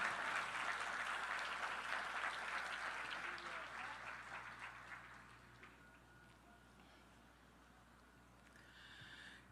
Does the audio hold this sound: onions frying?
no